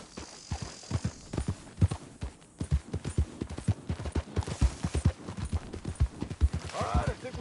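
Horse hooves pounding in a steady galloping rhythm in the Western open-world game Red Dead Redemption 2 while herding sheep, loud and close, mixed with a low hum and occasional voices talking over the ride.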